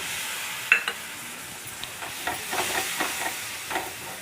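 Grated tomato and spices fry in oil for a dry chicken curry, a soft, steady sizzle broken by repeated spoon scrapes and stirring taps, with no talking.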